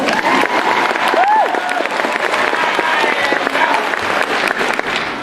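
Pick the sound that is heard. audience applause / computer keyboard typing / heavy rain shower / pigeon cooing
audience applause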